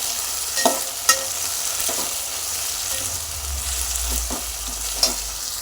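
Tomatoes fry in a hot pan with a steady sizzle, broken by a few sharp scrapes and knocks as they are stirred, with no talking.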